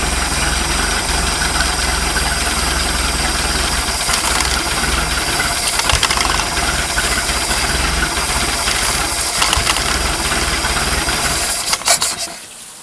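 A MerCruiser 3.0L Alpha One sterndrive boat engine idles steadily with a constant low rumble and rattle while fogging oil is sprayed in, then sputters and dies near the end.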